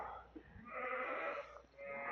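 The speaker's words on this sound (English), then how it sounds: "So we've got the goat just over there." Goats bleat at Adam Henson's farm alongside sheep, a soft, somewhat distant, drawn-out call over quiet outdoor background, with no talking.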